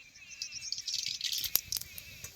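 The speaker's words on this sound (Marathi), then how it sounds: "मोहरी छान तडतडली आहे" Mustard seeds crackle and pop in hot oil over a wood-fired village stove, a dense, close run of small sharp sputters with a few louder pops, no talking.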